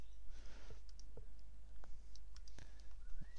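A computer mouse clicks a few times, quiet sharp ticks scattered at irregular intervals over a faint room hum.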